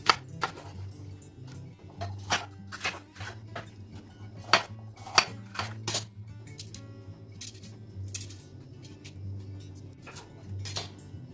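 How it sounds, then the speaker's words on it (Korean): A knife cuts tomatoes into pieces on a board for gazpacho, cold Spanish tomato soup, giving sharp intermittent taps and clicks at an uneven pace over a low steady hum, with no talking. "이걸 이렇게 이 정도 크기로 다 해서 잘라주세요"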